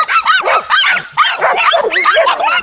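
Several dogs in a pack bark and yip rapidly and loudly at a lone Komodo dragon, their overlapping calls forming a dense, continuous chorus with no talking.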